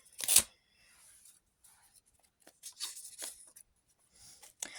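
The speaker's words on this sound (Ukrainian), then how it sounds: "Давайте ось цей пакетик відкриємо." A paper surprise packet being torn open, with a loud crisp rip at the start followed by softer crinkling and rustling of paper in short bursts.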